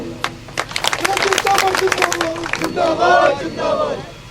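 An audience at a Rawat Samaj program bursts into applause, a dense clatter of many hands that swells and then thins, with cheering voices mixed in.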